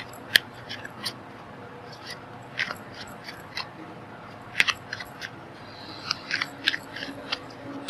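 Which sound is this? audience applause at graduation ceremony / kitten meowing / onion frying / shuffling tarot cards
shuffling tarot cards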